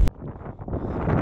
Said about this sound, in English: Don't want to bore you too much with this wind, because it's terrible.